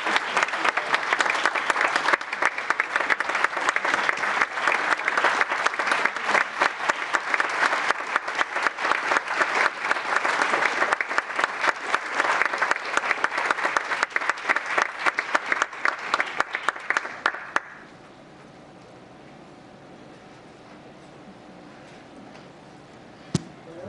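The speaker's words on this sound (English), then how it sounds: "So a big hand of applause as I hand this over to you." Sustained applause from a town council meeting audience, a dense steady clatter of many hands clapping for nearly eighteen seconds before cutting off to near silence with a few faint stray sounds.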